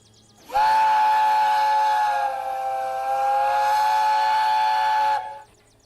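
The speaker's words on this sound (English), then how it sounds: "Train whistle." A steam train whistle in the railway game Derail Valley, sampled from a Presley A4, blows as one long, loud, steady chord-like blast of about five seconds with a hissy edge, then stops sharply.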